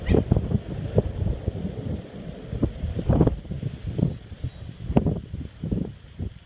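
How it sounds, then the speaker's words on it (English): Gusty wind buffets the microphone outdoors near a stadium, producing loud, irregular rumbling thumps and rushes that rise and fall throughout. "Kind of hard to hear at the wind."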